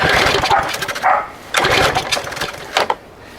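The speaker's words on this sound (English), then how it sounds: "it's giving me a little backfire" A found small engine, likely on a lawn mower, struggling to start: uneven sputtering bursts of running that cut in and out, with sharp popping backfires between them, loud and close.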